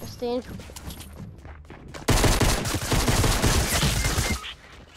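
Submachine gun fire in a video game erupts as a loud, sustained rapid burst lasting a few seconds, preceded by a brief voice and quieter game sounds.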